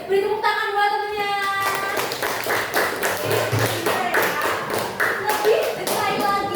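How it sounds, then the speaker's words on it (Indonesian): Children in a coding classroom clap for a classmate, a loose rhythmic burst of individual handclaps and taps close by, while voices speak over the clapping. "beri tepuk tangan buat temennya"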